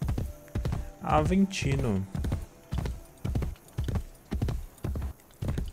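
Horse hooves clip-clop at a steady walking rhythm in Assassin's Creed Brotherhood, sharp close thuds spaced evenly, while someone speaks briefly over the first part.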